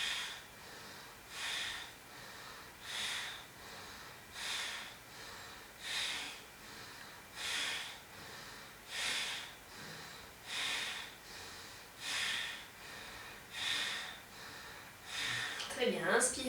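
Heavy rhythmic breathing during a yoga exercise, about ten strong, evenly spaced breaths alone and close, each a broad airy rush, ending in a short burst of sharper noise.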